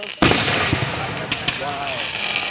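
Fireworks shoot up at an outdoor display, opening with a sharp loud burst followed by crackling and a rising whistle, with a few more pops. Voices are audible in the background.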